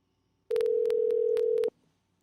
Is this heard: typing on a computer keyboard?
no